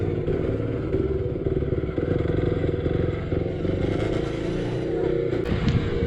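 A KTM Duke 390 motorcycle engine drones while riding in second and third gear on the Delhi Meerut Expressway, a close, rough, continuous throb with wind rush over it.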